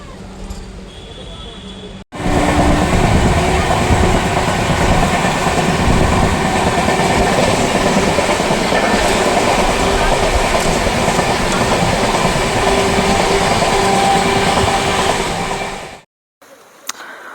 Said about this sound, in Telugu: ఫస్ట్ టైం అండి మా పిల్లలు ట్రైన్లో ట్రావెల్ చేయటము